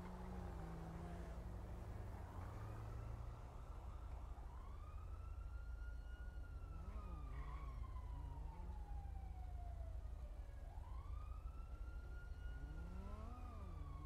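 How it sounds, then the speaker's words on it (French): Wailing sirens in the video game GTA V rise and fall continuously over a steady low rumble, several overlapping tones sweeping up and down throughout. "depuis tout à l'heure, j'entends les sirènes"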